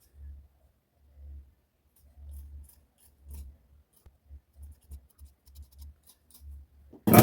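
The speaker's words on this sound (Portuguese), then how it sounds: "Eu vou estar cortando aqui uma tira para poder" Scissors snip through a strip of fabric while a knee pad is being made, a series of short, quiet cuts spaced roughly half a second apart, close by with no talking.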